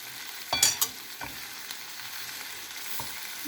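Eggplant frying on a pan over a medium flame gives a steady close sizzle throughout, with a few brief louder crackles and stirring clatters early on and no talking.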